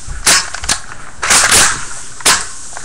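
Nerf Strikefire blaster, modded but firing like stock, gives several sharp snapping shots close up at uneven intervals, with no talking.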